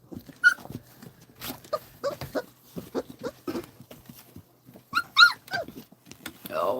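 Puppies whimper and yip in short high bursts, with a voice and a dog nearby. One louder cluster of squeals rises near the end.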